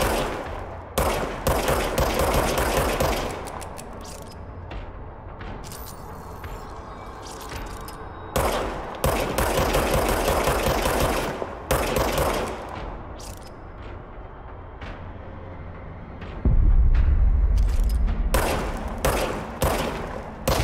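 A player's gun fires in the video game Control, loud bursts of gunshots in rapid strings broken by short pauses, with deep booming impacts near the end and no talk.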